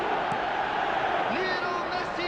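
A video game match crowd roars and calls out steadily in a dense, continuous wall of voices, with a few rising whoops on top.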